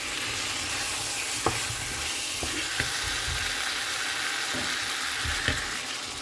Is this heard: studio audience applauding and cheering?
no